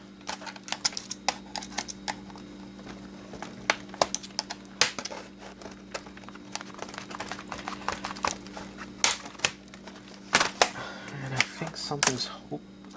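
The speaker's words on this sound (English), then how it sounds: "Let's take out the keyboard." Keyboard being pried out of an old laptop during teardown: a run of sharp plastic clicks and snaps, irregular and close, with small taps and scrapes between them over a steady low hum.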